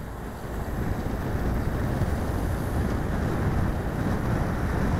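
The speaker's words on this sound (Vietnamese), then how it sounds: "các tay đua ở trong top đầu đang đi với tốc độ khoảng chừng gần 50 km/h trong điều kiện gió ngang khá khó chịu" Steady crosswind roars across a coastal road during a cycling race, a loud continuous buffeting rush with no voices over it.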